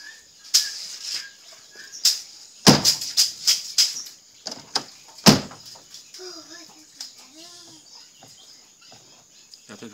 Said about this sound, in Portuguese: Agora vamos estar fechando a porta para ver como é que ficou